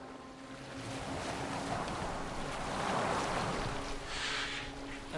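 A boat moving across water with a continuous wash of waves and hull rush, broad and steady with a gentle swell in the middle, wind-like and unbroken, no voices.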